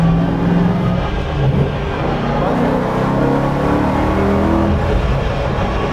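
BMW E92 M3 track car on the Nürburgring Nordschleife, its engine droning steadily and loudly throughout with a slight lift near the start, as from a gear change, heard from inside the car.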